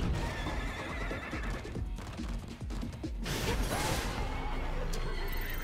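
A horse neighs loudly with a long whinny, accompanied by clip-clopping hooves and a brief crash, all in a busy, game-like soundscape.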